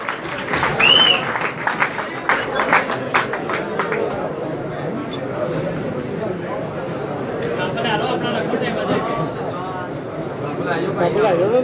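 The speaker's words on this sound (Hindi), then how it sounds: "तालियां बजा दिए दोस्तों" An audience claps at a prize-giving ceremony, steady scattered applause with crowd murmur and a voice talking over it throughout.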